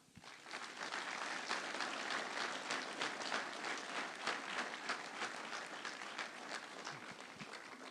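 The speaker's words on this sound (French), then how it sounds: "on peut les applaudir." Sustained applause from a village crowd at a mayor's New Year greetings event, honoring Ukrainian guests, steady and fairly dense from start to finish at moderate loudness.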